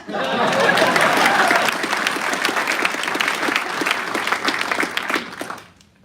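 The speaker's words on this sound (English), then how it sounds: "And now let's give a round of applause for our student MCs." An audience at an Air Force Airman Leadership School graduation applauds its student masters of ceremonies, a dense wash of clapping that swells at once, holds steady, then fades out near the end with faint voices mixed in.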